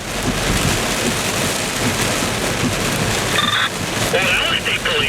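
Heavy rain beats down steadily during a tornado storm in Streator, Illinois, a loud, close wash of noise with a low rumble beneath and brief electronic tones near the end.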